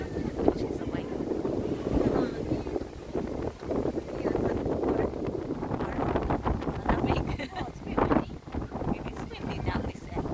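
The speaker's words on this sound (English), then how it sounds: "It is windy down this end." Wind gusting across a waterfront quay on a hot, windy day, a steady broadband rush and buffeting against the microphone that persists throughout, with faint background voices mixed in.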